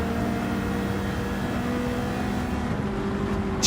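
A racing car's engine in the Gran Turismo 7 driving game, a steady droning engine tone held at constant pitch, loud and continuous with no talking.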